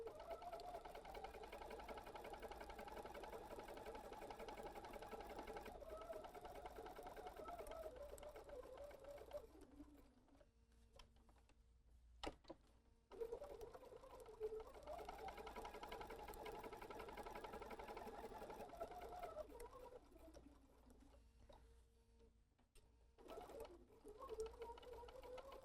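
Sewing machine back stitching a fabric face mask, faint, steady mechanical whirring in long runs broken by brief pauses and small clicks as the fabric is turned.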